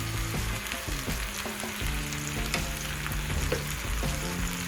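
Hakka noodles fry in a hot pan with soy sauce as they are tossed and mixed, a constant loud sizzle broken by repeated scraping and clattering strokes of the spatula.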